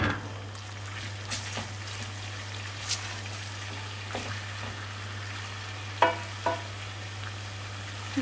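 Red chili powder and black pepper frying in a pan, a quiet sizzle under a steady low hum, with a few soft stirring clicks and scrapes and one sharper knock near the end.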